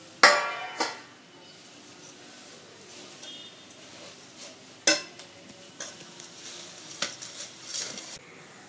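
Puffed paddy rice being stirred into hot syrup in a pan, giving scattered scraping and clinking of a spoon against the metal, with a few sharper knocks over a soft, crackly background.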